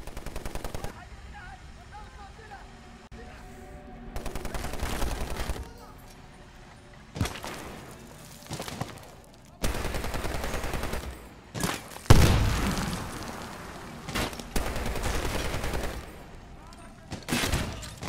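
Bursts of 40 mm cannon and 7.62 machine gun fire in the shooter game Medal of Honor Warfighter, rapid rattling volleys separated by quiet gaps, moderately loud, with someone speaking French between them.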